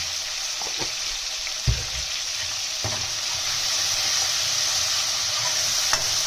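Chopped tomatoes cook in oil with a steady broadband sizzle, broken by a few soft knocks and stirring scrapes from a spoon in the pan, with no talking.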